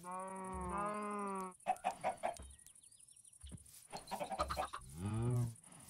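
Chickens in the Jurassic Minecraft video game cluck repeatedly in short harmonic bursts, with a rooster-like crow near the end, loud and close with no talking.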